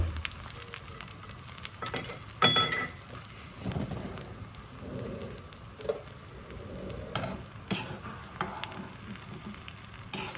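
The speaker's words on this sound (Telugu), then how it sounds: "ఇప్పుడు దీన్ని తీసేసి ఇంకా పోపు పెట్టేసుకున్నాం" Cumin, mustard seeds and crushed garlic tempering in sunflower oil, a low sizzle with sporadic pops and crackles and a few stirring clinks, fairly quiet and without talk.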